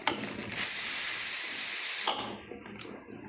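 A pressure cooker cooking fish biryani lets out a loud, sharp steam hiss that bursts in suddenly, holds steady for about a second and a half, then cuts off, followed by quiet clinks.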